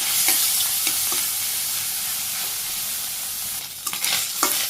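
Small chochchori fish frying in hot oil, a loud steady hiss of sizzling throughout with a few light stirring clicks and scrapes, especially toward the end, and no voices.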